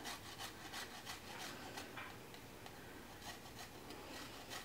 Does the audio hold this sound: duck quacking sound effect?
no